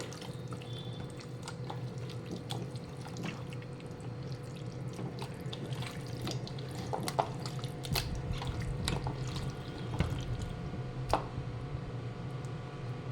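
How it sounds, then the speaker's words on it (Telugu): Raw chicken pieces mixed by hand with marinade in a bowl for a mango chicken gravy, giving a steady wet squelching and dripping texture, close and continuous, with no talking. "ఇవన్నీ మెరినేట్ చేసి పెట్టుకోవాలి అంటే అన్నీ ఇలా కలిపి ఓ పక్కన ఒక హాఫ్ అన్ అవర్ చికెన్ పెట్టేసి కలిపేకొని ఉంచుకోవాలి"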